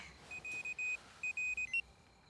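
A phone gives a series of short electronic beeps in a broken rhythm, two bursts of tones separated by a brief pause, fairly faint against a quiet room with no talking.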